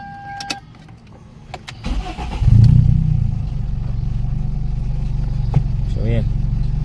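A carbureted engine with a fault in the cylinder head starts with clatter and settles into a steady, close idle, a low continuous rumble after a few taps and knocks, while someone speaks over it.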